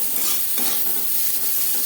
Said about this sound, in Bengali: মিডিয়াম সাইজের 3টে পেঁয়াজ ও একটা টমেটো অ্যাড করলাম।